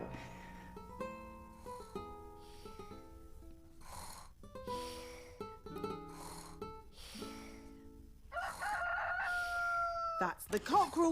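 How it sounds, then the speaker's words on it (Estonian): A cartoon rooster crows in the morning in an animated children's show, one drawn-out crow arriving near the end after light background music and soft sounds. "Kukk juba kires, aeg on ärgata."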